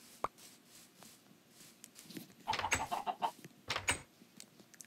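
Several chicken clucks and squawks in a hardcore survival video game, a couple of short bursts then a louder cluster of calls in the middle and near the end.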